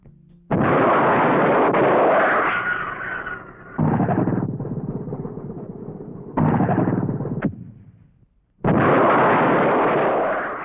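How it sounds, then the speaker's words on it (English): TOW anti-tank missiles are fired at stationary targets during Army test firings, each launch a loud sudden blast followed by a sustained rushing roar, with three separate firings cutting in abruptly and fading between them. "The missiles are first subjected to tactical field conditions, then fired at stationary targets."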